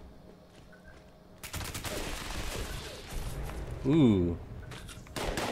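Rapid automatic gunfire from a weapon in the game Fallout 76, starting after a quiet opening as fast bursts over a low rumble, fairly loud; a voice briefly exclaims in the middle.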